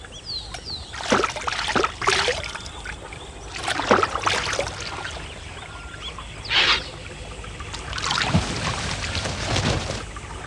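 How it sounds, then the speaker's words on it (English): Vultures bathe in water, dunking neck, wings and tail, giving repeated bursts of splashing and flapping spray with short pauses between, fairly close, over a steady outdoor background. "vultures are clean birds and wash any gore from their plumage regularly"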